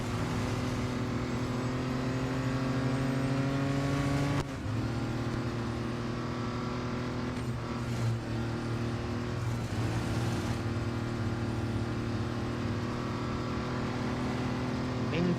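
An Audi Quattro B2 races in the mobile game Real Racing 3, its engine droning steadily with a sustained tone, shifting briefly as gears change or cars pass, loud and continuous throughout.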